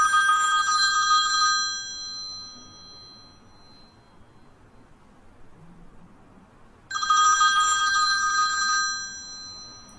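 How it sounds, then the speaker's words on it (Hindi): A telephone rings twice within a song, each burst a bright, steady electronic trill lasting about two seconds, clear and prominent, with a quiet stretch of low background music between the rings. "मुझे लगा टेलीफोन रिंग बज रही है"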